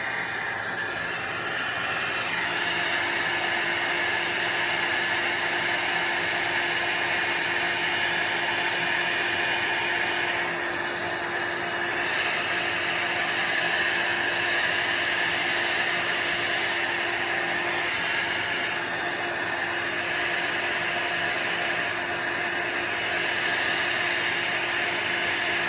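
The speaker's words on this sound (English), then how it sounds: "I was keeping the dryer on that a little longer than I normally would" Hair dryer blowing steadily over an alcohol ink painting, a continuous broadband airy whoosh with a steady motor whine, close and sustained throughout, slight changes in airflow as it moves over the surface.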